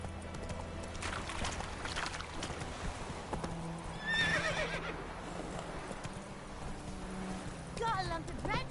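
Roach the horse in The Witcher 3 galloping with rhythmic hoofbeats, then neighing loudly twice, close and clear over a low ambient game background.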